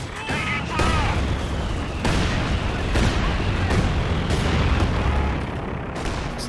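An incendiary heavy mortar strike lands in Company of Heroes 2, with repeated booming blasts and crackling impacts rolling one after another over a rumbling battlefield backdrop.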